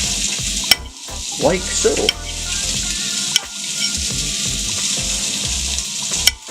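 Sliced mushrooms frying in a pan for a fry-up, a steady close sizzle with occasional sharp clacks of a utensil, and someone speaking briefly over it.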